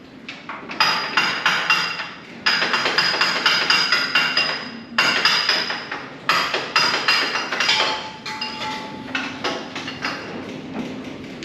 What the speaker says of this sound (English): I usually get anything to comply after a few raps with a hammer.